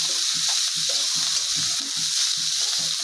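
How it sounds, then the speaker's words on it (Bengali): Pumpkin seeds fry in a pan on low heat with a soft, continuous sizzle and regular stirring scrapes in a steady rhythm, with no talking. "এখন আমরা অল্প আঁচে ভালোভাবে ভেজে নিব।"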